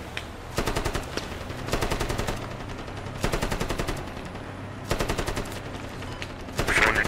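A machine gun fires short controlled bursts in the video game Squad: five separate rapid rattles, each about half a second long, with brief pauses between them and faint background noise.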